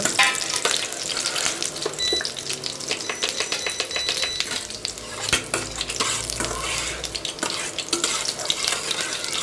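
Ingredients are sautéed in a pan for a Tamil herbal healthy-food recipe: a loud, continuous sizzle broken by frequent scraping stirs, heard close up with no talking.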